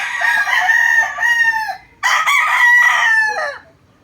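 Two loud, close crows from a Milsim Black gamecock follow one another, each a long strained cock-a-doodle-doo that trails off at the end.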